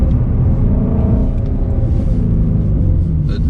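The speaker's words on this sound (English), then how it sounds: "It does get a little loud and buzzy when you're just staying in that high RPM" Ford Mustang GT350 engine held at high RPM, a loud, steady buzzy drone with dense low rumble filling the cabin, continuous and unbroken throughout with no speech.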